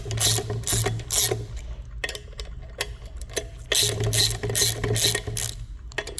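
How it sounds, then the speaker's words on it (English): A ratchet cranks on tight table-top bolts held with blue Loctite, giving loud close bursts of rapid clicking that pause briefly between strokes, with no talking. "You loosen one, loose the opposite one, and just go round robin, just like you would a tire."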